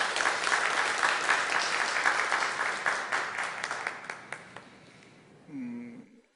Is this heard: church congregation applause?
yes